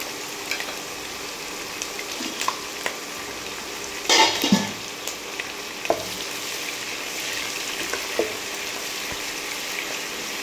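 Onions and green chillies frying in oil with biryani masala and seasoning seeds, a soft steady sizzle with a few scattered utensil clicks and one louder stir or scrape near the middle, no voices.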